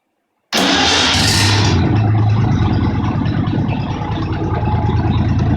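A cold Volvo ED engine cranks and catches abruptly after a short silence, roaring loudly at first and then settling into a steady, close, rumbling idle with no talk over it.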